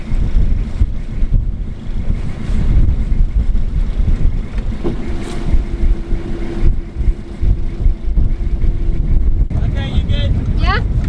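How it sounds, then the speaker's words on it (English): Strong wind buffets a sailboat at anchor, a loud, continuous roar and rumble with gusty surges throughout, and a brief voice breaks in near the end. "It's really windy"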